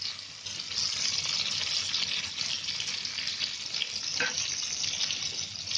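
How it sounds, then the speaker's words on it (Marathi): Black rainy-season fish fries in a pan on a medium gas flame, making a constant dense hiss-like sizzle that stays loud and close all the way through, with one brief clink and no speech. "आता परत चांगली भाजून घ्यायची आणि काढायची"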